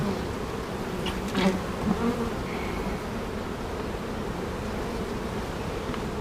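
Dense, continuous buzzing of many honeybees close by at a hive on a hot day, a steady droning hum with occasional louder passes from individual bees.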